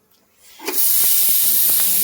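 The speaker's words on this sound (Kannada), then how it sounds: "ಕುಕ್ಕರ್ ತೆಗೆದೆ ಇದ್ರ ಅನ್ನ ಬಿಸಿ ಮಾಡಕ್ಕಿಟ್ಟೆ" Steam rushing out of a pressure cooker opened in a home kitchen, beginning after a brief quiet moment with a clatter, then a loud, sustained hiss close by with faint knocks beneath.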